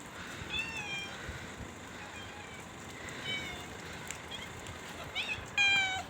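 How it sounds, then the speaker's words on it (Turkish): A pet cat meows several times outdoors on a snowy street in Istanbul, the short cries rising clearly over steady wind and snowstorm noise, with a louder call near the end. "Bu da benim kedim ya. Her videoda beni yakalıyor."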